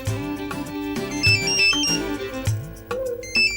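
A mobile phone ringtone plays a melodic electronic tune at a steady loudness, alone with no voices, during a Gujarati family comedy scene at home.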